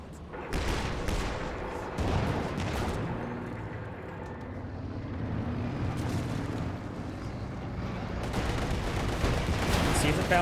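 Heavy artillery barrage and gunfire in the Company of Heroes 2 strategy game, a dense, continuous rumble of blasts and shots with louder impacts near the start and end.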